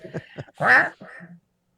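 A man imitates a duck with a short burst of nasal quacking in a dry indoor setting, a few rough throaty honks followed by silence.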